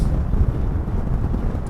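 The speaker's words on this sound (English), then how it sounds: "It's a lovely day, but it's very, very windy." Strong gusty wind buffeting the microphone on a Blackpool beach, a loud continuous low rumble that swells and dips slightly, with no other sounds standing out.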